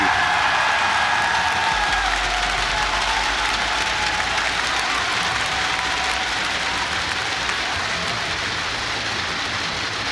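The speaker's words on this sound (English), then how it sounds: "Got a lot of cheers from the crowd." A large crowd at a live Rainbow Six Siege announcement event gives dense, sustained applause and cheering that stays loud and steady throughout.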